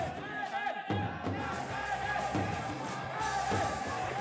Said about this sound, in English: The crowd liking that.